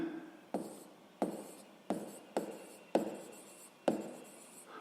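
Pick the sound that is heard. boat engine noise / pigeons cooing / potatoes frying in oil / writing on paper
writing on paper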